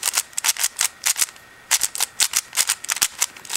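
Rapid bursts of sharp plastic clicking as a Shengshou Mr. M puzzle cube is turned, several quick clatters in a row, a short pause, then more clicking runs, close and fairly loud.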